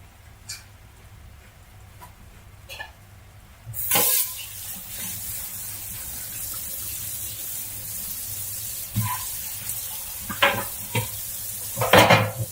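Onions for potato, bacon and leek soup cook in a pan, starting with faint clicks and then a steady loud sizzle from about four seconds, broken by occasional stirring scrapes and taps near the end.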